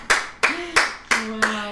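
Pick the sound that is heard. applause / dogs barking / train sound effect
applause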